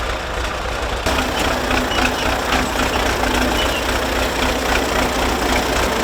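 Steady, loud drone of a privately owned tractor working nearby, a continuous low engine rumble with a slight rise in intensity after the first second and no pauses.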